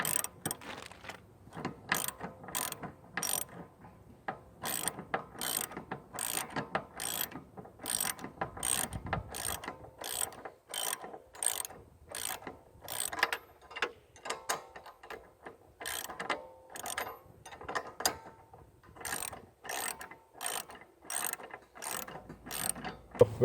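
A 17 mm wrench ratchets bolts tight on a steel sawmill log bed extension, with rapid clicking bursts repeated in a steady rhythm, close and clear with pauses between strokes.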